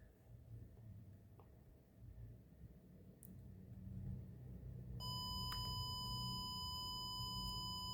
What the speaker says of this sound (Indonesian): Kadar pH-nya itu ada di 4 dan otomatis buzzernya akan berbunyi